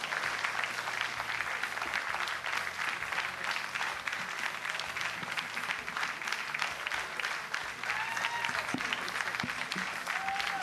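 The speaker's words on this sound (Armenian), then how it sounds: "Դեռ պետք է շարունակեք ծափարել։" Sustained audience applause, a dense steady wash of clapping from a crowd that holds at even loudness throughout, with faint voices mixed underneath.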